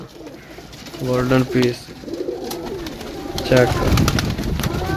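Pigeons at a market sale in Sarai Alamgir, Gujrat, coo low and throaty in short bursts, with someone talking over them and background chatter.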